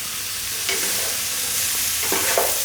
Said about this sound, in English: We can stir fry this.